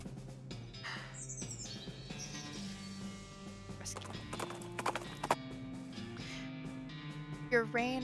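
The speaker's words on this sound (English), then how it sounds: "You rein in your horse upon hearing a rattle of bones and clanking of chains nearby." A horse's hooves clip-clop steadily while a rider reins it in, with a whinny near the end. Bird calls sound in the background, and a voice speaks briefly over the scene.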